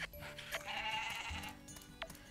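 Goats bleating in Story of Seasons: Pioneers of Olive Town, a few short farm-animal calls over soft game background music, without talk.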